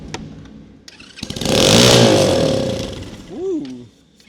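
A small Amazon mini jeep engine running on brake cleaner instead of a carburetor, revving up into a loud, rough, buzzing roar that swells and fades, followed by a brief whoop of a voice.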